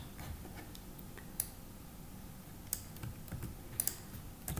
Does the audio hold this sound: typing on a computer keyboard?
yes